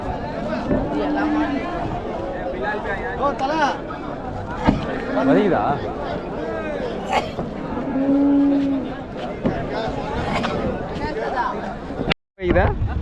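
Plough bullocks and cattle at the Vaniyambadi cattle market give several drawn-out moos under someone talking and the chatter of a surrounding crowd.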